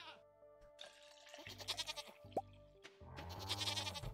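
Goat bleats in a farming video game (Starworld Farm) during a milking scene, a few wavering cries over steady game music and ambient sound, with some talk mixed in.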